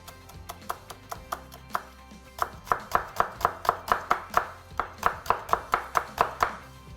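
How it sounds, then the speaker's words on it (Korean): A knife finely juliennes the white part of a green onion on a cutting board, giving a quick, regular series of crisp chopping taps in bursts, close and clear. "그래서 곱게 채를 썰어줄 겁니다"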